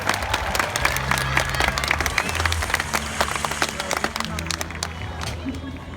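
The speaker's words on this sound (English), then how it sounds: "Give them one more round of applause." An audience at a SeaWorld San Diego killer whale show applauds in a broad, continuous wash of clapping, with some cheering and crowd babble blended in.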